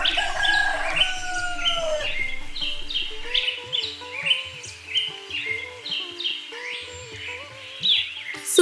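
Birds chirp and call steadily across a quiet village morning beside farm fields, with bright repeated tweets and a rooster-like call rising over a soft background hum.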